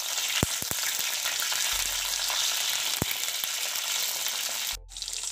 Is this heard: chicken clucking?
no